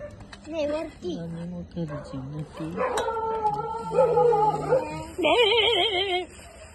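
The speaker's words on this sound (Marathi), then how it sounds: "कुत्री भुकायला लागली." Several dogs howl and yelp in long, wavering, overlapping cries, fairly close, rising and falling over a few seconds.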